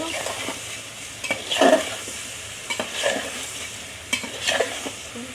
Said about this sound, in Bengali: আবার একটু নাড়া দিয়ে দিব।